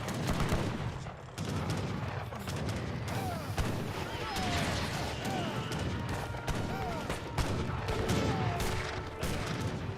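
Falconet cannons and guns firing in an Age of Empires 3 battle: rapid, overlapping volleys of gunfire and cannon booms crackling continuously at moderate level, with whistling projectiles and a commentator talking over the din.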